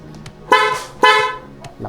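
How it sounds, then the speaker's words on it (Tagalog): A loud car horn, just fitted as an upgrade, gives two firm honks about half a second apart, close and clear with no talking over it. "Oh, yan ang busina niya, oh."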